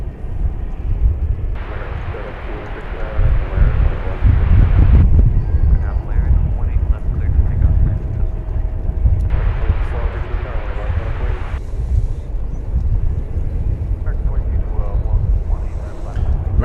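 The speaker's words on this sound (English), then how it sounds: "American flight number 1830 is about to touch down from Guadalajara, Mexico." An American Airlines jet landing at DFW airport on its flight from Guadalajara, Mexico, rumbles steadily with broad engine roar across the whole stretch, heard from outside with a person talking over it.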